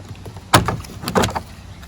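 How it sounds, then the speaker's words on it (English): A car or truck interior door panel is pried away from the door frame, giving two sharp plastic pops and cracks with short scraping between them, close and fairly loud. "carefully grab the corner and separate it from the door frame."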